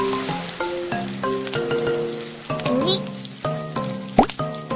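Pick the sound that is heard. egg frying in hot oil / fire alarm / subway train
egg frying in hot oil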